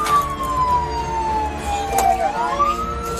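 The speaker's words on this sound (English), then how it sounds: "When you hear sirens, always slow down and yield safely." A loud wailing police siren sweeps down and back up in pitch, close by, over the rumble of traffic.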